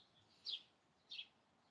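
Two brief high chirps from a small bird in a yard, spaced under a second apart, soft and distant against a quiet outdoor background with no talking.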